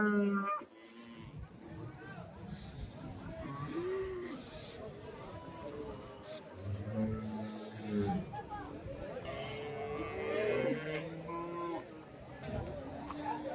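A busy crowd chatters throughout while water buffalo bellows and bleating-like calls rise and fall underneath, at a livestock market.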